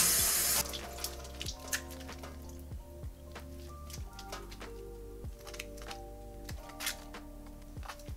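Tap water runs into a sink for a handwashing lather test of Dr. Squatch Fresh Falls soap, a steady close splashing stream with scattered clicks and knocks, no talking.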